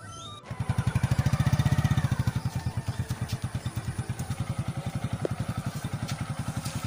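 Motorcycle engine idling and revving up close, a steady loud pulsing chug that swells early, then settles into a slightly quieter rhythmic throb, with no talking.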